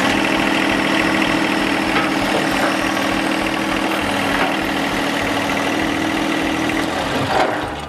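A John Deere 1025R compact tractor idles steadily and close by while its front bucket is being attached, a continuous mid-low engine drone with a brief bump near the end.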